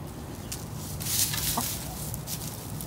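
Chickens in a backyard flower garden with a couple of trees cluck softly and sporadically, a brief higher call standing out midway over steady outdoor background noise.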